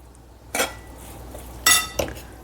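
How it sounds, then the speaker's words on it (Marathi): Cooked moth bean usal being served onto a plate: three sharp clinks and scrapes of a spoon against a plate, spaced over a couple of seconds with quiet pauses between them. "तर आपण प्लेटमध्ये सर्व करून घेऊया आता"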